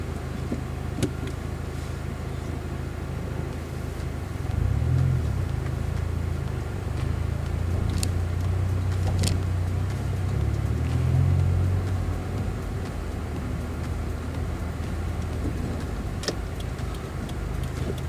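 A 2017 Subaru WRX engine with a Cobb Accessport Stage 1 tune runs steadily, its low hum swelling for several seconds mid-clip before settling, with a faint ticking in the background.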